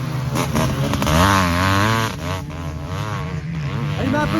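A Honda CR500 dirt bike engine revving loudly and close, a rough, steady two-stroke roar that rises and falls through repeated throttle blips.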